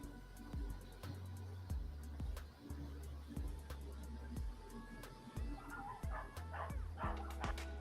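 Dogs bark repeatedly nearby in quick, uneven bursts, mixed with yips and whimpers, at a moderate volume.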